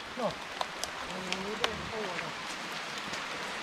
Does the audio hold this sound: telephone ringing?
no